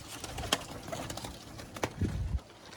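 Pigeons coo softly in a loft, a few low, scattered calls with some light rustling and wing movement, fairly close but not loud, with no voices.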